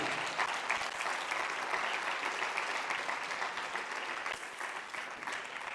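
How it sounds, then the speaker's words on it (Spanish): A church congregation claps during a Spanish-language sermon, giving a steady, sustained round of applause that fills the room without a break. "¿Cuántos quieren dar una ofrenda de palmas?"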